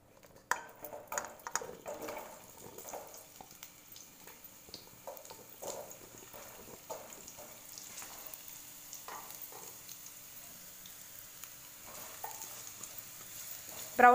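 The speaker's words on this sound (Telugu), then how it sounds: "ఆయిల్ వేడెక్కిన తర్వాత ఇప్పుడు పొటాటోస్ వేపుకుందాము." Potatoes frying in hot oil in a home kitchen pan while cooking potato egg masala curry, a steady soft sizzle with intermittent stirring clinks and scrapes, fairly quiet throughout and no voices.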